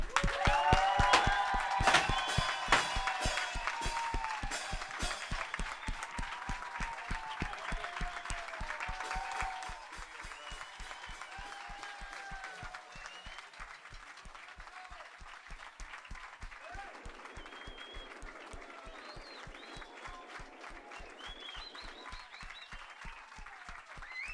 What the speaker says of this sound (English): Can everybody give that real big round of applause, please?